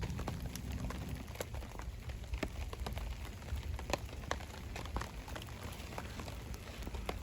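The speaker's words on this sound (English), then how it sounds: "it has been raining for a couple of hours" Steady rain pattering on a tarp shelter at a night campsite, a dense continuous patter with scattered louder drops close by and no voices.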